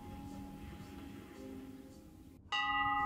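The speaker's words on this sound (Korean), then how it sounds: "이 종소리에는 자유가 있습니다" A bell rings out in the highlands of Sobaeksan's Dalbatgol on the Jarak trail, starting abruptly near the end with a bright, sustained metallic tone over a low background murmur.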